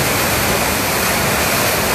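Floodwater rushes loud and steady through a street canal in Rosario de Lerma after heavy rain overflowed its roughly two-metre depth, a dense continuous roar without pauses.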